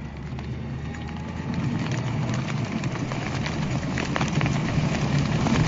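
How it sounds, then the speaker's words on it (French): Rain falls steadily on a women's triathlon race in Yokohama, a dense, constant patter on the ground that grows slightly louder partway through, with no voices. "Et cette pluie qui continue de s'abattre sur les athlètes"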